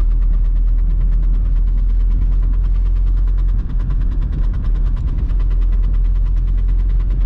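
A VW Golf 3 with the 90 hp 1.9 TDI diesel drones steadily inside the cabin while driving on a rainy day, a continuous loud low engine rumble mixed with road noise and no talking.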